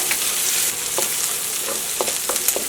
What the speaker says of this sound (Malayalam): അപ്പോൾ നമ്മുടെ സവാള ഒന്ന് വഴന്ന് തുടങ്ങിയിട്ടുണ്ട്